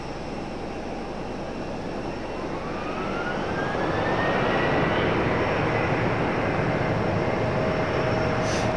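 A Boeing 737 jet airliner roars steadily overhead, its broadband engine noise swelling louder as it passes close by, with a rising whine threading through the rumble.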